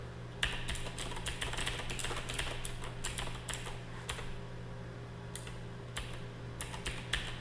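Computer keyboard keys are pressed in quick irregular bursts of clicks and taps while a Sokoban game is tested, close and clear, with no talking.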